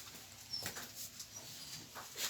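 Household dogs whimper and yelp faintly in a few short bursts, quiet and somewhat distant, with no talk over them.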